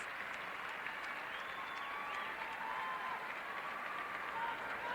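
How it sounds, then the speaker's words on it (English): A crowd applauds at the 1995 US Figure Skating Championships men's free skate in Providence, standing for a performance. The clapping is dense, steady and loud, holding for the whole stretch with no break. "The crowd on their feet here in Providence."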